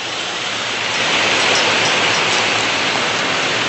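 Steady rain falls in a dense, even hiss that swells slightly after the first second and holds without any voices.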